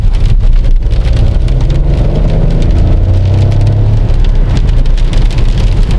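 Hyundai Kona accelerating hard, heard from inside the cabin: a constant loud wash of road and rain-like noise with a low hum that rises and swells during the pull.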